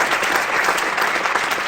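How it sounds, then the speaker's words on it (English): A convention audience bursts into a short, dense round of applause, loud and even throughout. "Can I get a round of applause very quickly for another big supporter of ours"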